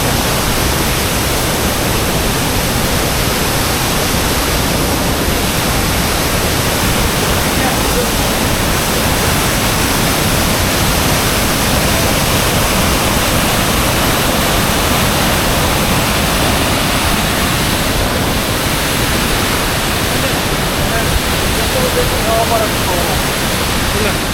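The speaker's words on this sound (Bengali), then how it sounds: "ঝর্ণাটা বেশ বড় ঝর্ণা" Borhill Falls, a gigantic waterfall in Meghalaya between Mawlynong and Dawki, roars as a loud, dense, unbroken wash of falling water that fills the whole scene.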